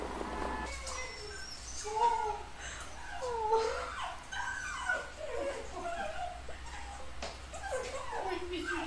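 A dog whines and whimpers in short, high, wavering cries at a homecoming as a soldier returns, fairly close but faint, interspersed with people speaking excitedly.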